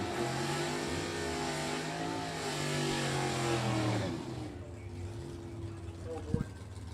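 An E-Stock automatic drag racing car roars down the strip at a stock-class event, engine note climbing and then fading into the distance, with an announcer talking over it.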